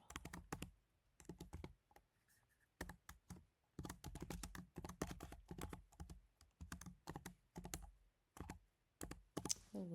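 Bursts of typing on a computer keyboard while entering card text in a design program, quick clattering key clicks in uneven runs separated by short pauses, close and fairly quiet with no talking.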